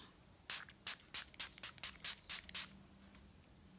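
A hydrating toner with peppermint oil is sprayed onto the face in a quick series of about nine short pump-spray bursts, close and crisp, with no talking.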